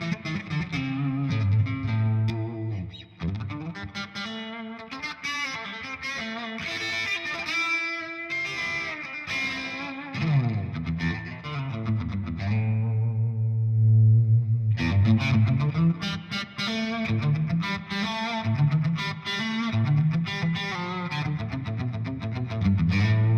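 Electric guitar through a Walrus Audio Melee pedal, set to a short room reverb with drive, plays distorted chords and melodic runs with a brief pause midway, loud and alone.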